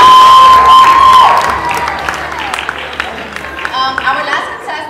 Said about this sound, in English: Give it up for him! Come on!